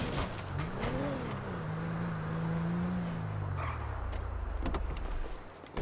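A car driven in the Grand Theft Auto V video game, its engine droning steadily and rising and falling in pitch as it accelerates, with a few sharp clicks and knocks over the continuous motor noise.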